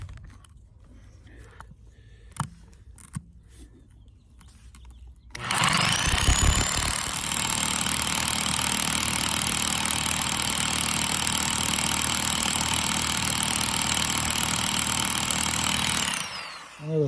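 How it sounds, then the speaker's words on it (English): A loud, steady mechanical drone from an SDS hammer drill boring into a large boulder starts abruptly after a few quiet seconds of small clicks and knocks, holds constant for about ten seconds, then cuts off. "This is an SDS hammer drill."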